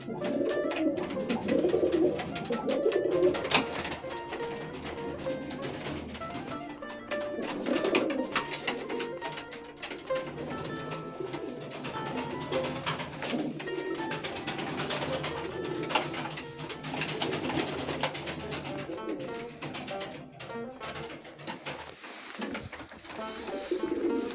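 Steady cooing of Kayseri play pigeons mixed with other bird calls, a dense continuous flock chorus heard close by with no talking.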